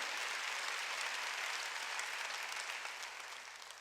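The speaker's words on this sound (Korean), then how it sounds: "박수로 하나님께 영광을" Steady congregation applause fills a church during a Wednesday worship service, a dense wash of many hands clapping at even loudness that tapers slightly at the end, with no voices over it.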